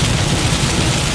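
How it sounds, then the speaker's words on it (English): Very heavy rain pounds steadily during a Florida thunderstorm, a dense, continuous close roar with no breaks and no voices. "Very heavy rain is pounding at me right now."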